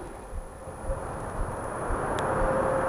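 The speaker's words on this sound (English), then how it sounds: "Ooh, nice fan." An electric fan rated for a 600 RPM maximum runs steadily, giving a constant airy whoosh with a faint steady hum that grows slightly louder toward the end.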